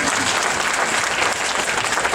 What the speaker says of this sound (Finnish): Antakaa heille aplodit.